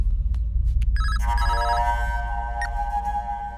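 A telephone rings loudly and close by in repeated trilling bursts over a low, steady hum.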